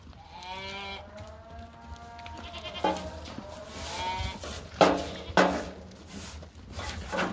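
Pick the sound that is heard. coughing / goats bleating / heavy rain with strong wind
goats bleating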